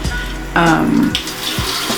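Water runs from a tap during face washing, a close splashing burst that starts suddenly, flows briefly and then trickles off into softer dripping and handling sounds.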